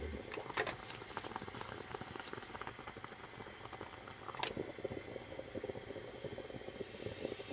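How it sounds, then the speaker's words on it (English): Milk heating on a stovetop burner with cinnamon, quietly bubbling and popping in a steady crackling patter, with a few sharper pops and a rising hiss near the end. "start to bubble up"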